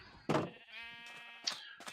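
Sheep in the game Terracotta bleat several times in a row, each call wavering and tonal, set against a steady synthetic hum with no talk.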